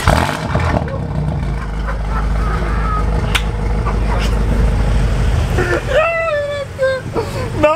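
Modified BMW M8 engine and exhaust idling with a deep steady rumble, a sharp rev blip midway, and people talking and exclaiming over it near the end.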